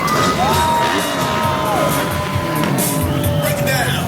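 An air show crowd cheers and whoops loudly for motocross riders, a sustained dense roar of voices with whistles and shouts, fairly close throughout.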